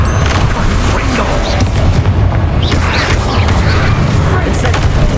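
A Confringo blast spell erupts in Hogwarts Legacy, a loud rumbling boom that rolls on heavily throughout with crackling bursts on top.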